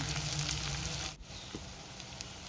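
Tomato frying in ghee for a fresh turmeric kurma, a steady close sizzle with fine crackle that dips briefly midway and then carries on evenly, with no talking.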